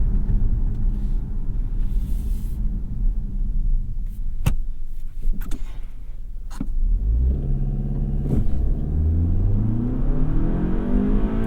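A 2021 Lexus ES 250 AWD F Sport, a 203-horsepower four-cylinder, launching from a stop on a snowy road, steady engine drone and road rumble heard from inside the cabin, rising in pitch as it climbs through the gears.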